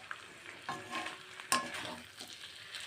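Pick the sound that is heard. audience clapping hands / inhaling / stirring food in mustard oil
stirring food in mustard oil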